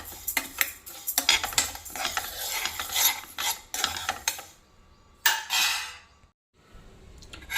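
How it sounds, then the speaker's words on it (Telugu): A spoon scrapes and clatters against a pot while moong dal is stirred and dry-roasted over medium heat. The strokes come in uneven bursts, pausing briefly before starting again. "ఈ పెసరపప్పు ముందుగా ఒక గిన్నెలో వేసుకొని కలర్ చేంజ్ అయ్యేదాకా యాగనివ్వాలి."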